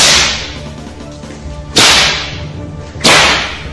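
Two sharp, loud whip cracks ring out alone, each one a sudden snap followed by a long ringing decay, about a second and a half apart.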